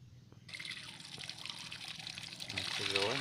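Running tap water splashes steadily over sweet leaf vegetables being washed, close and continuous, with a brief rising gurgle near the end and a voice talking faintly underneath.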